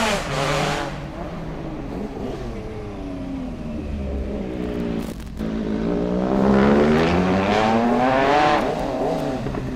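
Triumph Speed Triple RS motorcycle racing up the Eliyakanda hill climb course: the engine revs rise and fall through gear changes, growing louder as the bike nears, with no talk over it.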